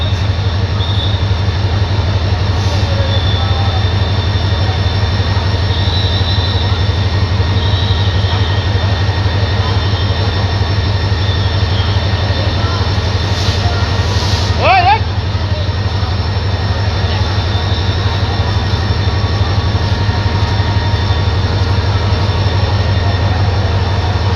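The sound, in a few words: Chilahati Express intercity train departing Kamalapur station platform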